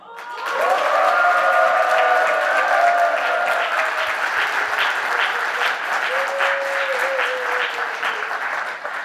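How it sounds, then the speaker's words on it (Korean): Loud, sustained audience applause fills a party founding convention as a standing co-leader is elected, dense clapping from start to finish with faint voices beneath. "다시 한번 여러분들의 큰 박수로 용해인 상임대표 후보를 상임대표로 선출하도록 하겠습니다"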